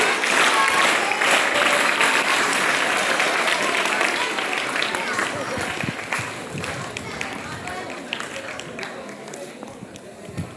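Sustained applause from an audience at a school birthday celebration for a teacher, dense and fairly loud at first, gradually thinning, with voices audible underneath.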